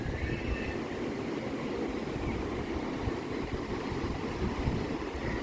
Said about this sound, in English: I just want everyone to listen to the waves